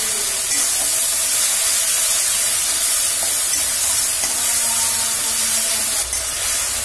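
Spice paste for a Bengali katla fish curry fries in a pan with a splash of water, giving a loud, continuous close-up hiss and sizzle that stays steady throughout with no talk.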